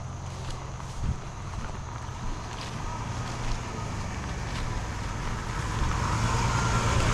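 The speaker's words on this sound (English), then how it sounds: "Yep, got a vehicle coming out." A vehicle rolls out along a trail past hikers, a low rumbling engine and tyre noise that grows steadily louder over wind and outdoor ambience.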